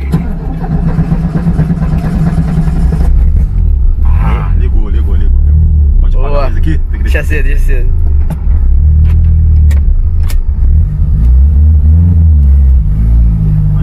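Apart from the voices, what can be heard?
car engine starting and revving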